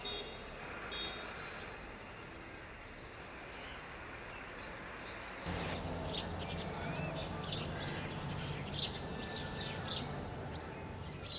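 House sparrows chirp with short bright tweets at a bokul tree near a flyover in India, while steady traffic hum and a reversing beep run underneath.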